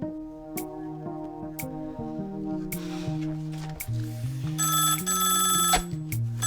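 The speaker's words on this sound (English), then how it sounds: "I'm calling Al Sharko right now." A telephone rings with bell-like tones over sustained musical chords, several distinct rings standing out from the score in a film scene.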